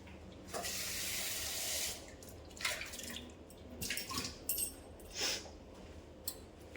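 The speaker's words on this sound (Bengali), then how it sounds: "মিক্সি জার, একটু ধুয়ে নিই" Tap water runs into a mixer grinder jar as it is rinsed, a steady gush for about two seconds followed by intermittent splashes, drips and sloshing from the jar at close range, with no talking.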